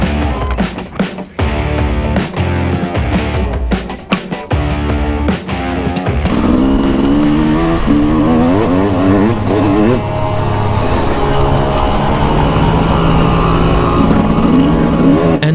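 A two-stroke motorcycle rides a track on brand new tires and brake pads, its engine buzzing loud and close. The pitch rises and falls through gear changes after a few sharp stabs of throttle.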